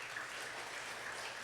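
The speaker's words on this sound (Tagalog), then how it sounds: "Palakpak naman dyan sa Panginoon" Church congregation applauding, a soft continuous wash of many hands clapping, heard from a distance and fairly faint.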